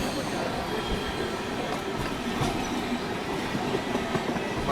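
Ratnachal SF Express running with upgraded LHB coaches, a steady loud rumble of wheels on track with faint clickety-clack and occasional squeal throughout, no voices.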